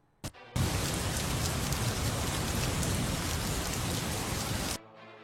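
Heavy monsoon rain pours down during a Karnataka windstorm, a loud, dense, steady roar that holds for about four seconds after a brief knock and then cuts off.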